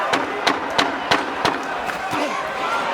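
A boxing crowd roars at Madison Square Garden during a world title fight, a steady dense cheer with sharp bursts and shouts rising out of it several times.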